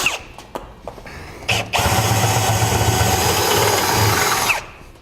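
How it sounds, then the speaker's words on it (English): A few sharp clicks and knocks, then a power drill with a 1/2 inch bit runs loud and steady for about three seconds before cutting off, drilling for a gooseneck trailer hitch on a 2014 Toyota Tundra. "Now I'll take my 1/2 inch drill bit."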